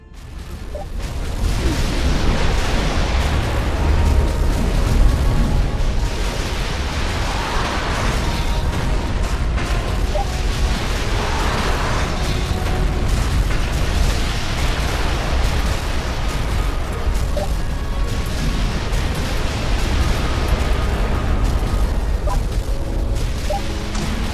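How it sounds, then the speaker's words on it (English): Heavy booming blasts and explosions of cannon fire in the video game Defense Grid 2 roll continuously, dense and loud, with crackling debris throughout. "Man, I love the sound of cannons."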